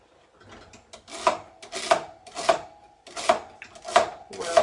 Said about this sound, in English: We're almost finished cutting up the celery.